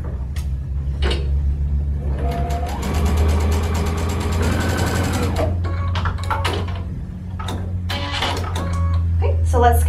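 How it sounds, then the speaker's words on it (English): A Baby Lock Crescendo sewing machine stitches corner to corner across fabric for a Christmas stocking, giving a steady low motor hum that runs the whole time with a faint tonal background. "all you're gonna do is sew from corner to corner."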